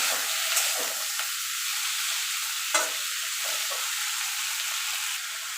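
Kharkol leaves seasoned with salt and turmeric sizzle steadily in a pan, with occasional scraping strokes of a stirring spoon breaking through the continuous frying hiss.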